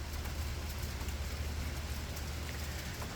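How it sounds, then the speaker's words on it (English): Steady rain falls outdoors around a barbecue smoker on a summer holiday cook of brisket and pork butt, a continuous soft broadband hiss with a low rumbling undertone and no voices. "It's raining too, which is wonderful."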